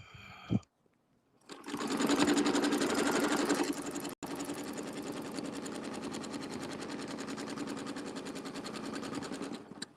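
A sewing machine stitches a circle, a rapid even chatter of needle strokes that starts after a brief pause and carries on steadily and close, with one short break partway through.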